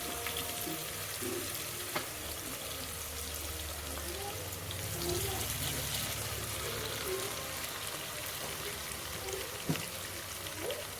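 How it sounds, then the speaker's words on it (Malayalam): Sliced onions fry in hot oil in a pan for a pressure-cooker biryani, a steady soft sizzle and hiss with occasional pops and a few light stirring knocks. "ഇത്രയും ഉള്ളു മതി നമുക്ക് ഫ്രൈ ചെയ്യാൻ"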